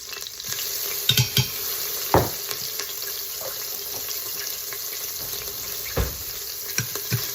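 Minced fresh ginger fries in a pan with a soft, steady sizzle, broken by a few sharp spoon clinks and scrapes against the pan; no one talks.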